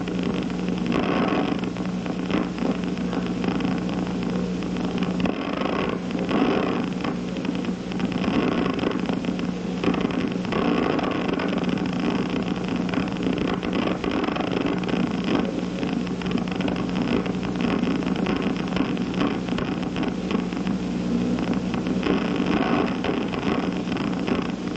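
Neuron activity fed through a loudspeaker during a direction-tuning recording gives a continuous dense crackle of static, peppered with faint clicking spikes and holding a steady level throughout.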